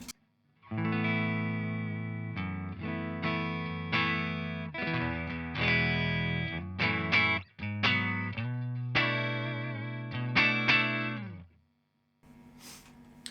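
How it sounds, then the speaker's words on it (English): Clean electric guitar through a Headfirst Alta tube amplifier on its vintage setting with bright caps engaged, no effects: sustained chords and riffs with short pauses, close and fairly loud, then a soft hum at the end. "here's just the dry sound of the amplifier"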